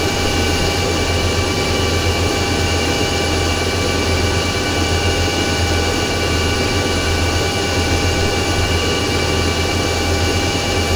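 F/A-18E right jet engine cranking in a flight simulator game, a loud constant roar and whine with steady tonal hum throughout, no pauses.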